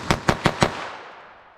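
Four rapid .22 Long Rifle gunshots crack in quick succession, loud and close, each sharp report leaving a fading echo behind the last shot.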